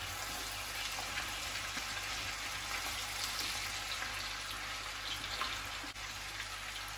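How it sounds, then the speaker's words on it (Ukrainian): Potatoes fried with garlic and spices, stirred in a pan: a steady, close, dense sizzle and crackle holding even throughout with no talk. "І тепер ми нашу картоплю перемішуємо."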